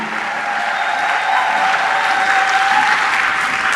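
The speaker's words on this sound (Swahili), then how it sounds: "Hayo makofi hayatoshi" Sustained applause from a church congregation during a sermon, a dense, steady wash of many hands clapping throughout, loud and close with no pauses.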